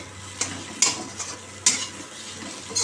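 Bitter gourd, pumpkin and sweet potato fry in a pan while a spatula stirs them, giving a few sharp scraping clacks over a low sizzle, close by.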